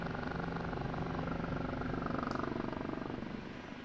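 In the DCS combat flight simulator, an OH-58D Kiowa Warrior helicopter flies with a steady, fairly quiet whir and a low, pulsing rotor chop, easing off slightly near the end.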